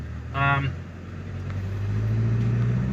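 A tuned Volkswagen Golf R MK7 with an EA888 engine and IS38 hybrid turbo runs while driving with a steady low drone that rises slightly, after a short tonal blip near the start, with talking faintly present.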